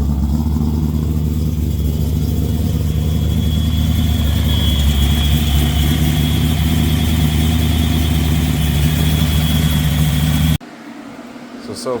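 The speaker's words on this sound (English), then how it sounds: "Nice little cold start for you." Ford 5.0 V8 swapped into a Nissan S13, idling after a cold start with a deep, steady, loud rumble close up, which cuts off abruptly near the end.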